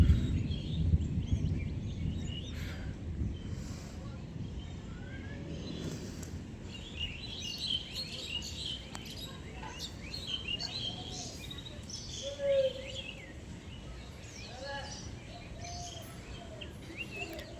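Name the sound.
birds chirping during rain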